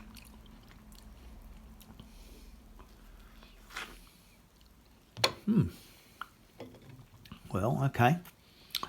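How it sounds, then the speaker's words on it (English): Close, quiet biting and chewing of a soft, moist blood orange that dropped from the tree early after cold spells, with faint wet clicks and two louder bursts of mouth noise near the end and a few brief spoken words. "I'll just taste it and see if there's any sweetness in it"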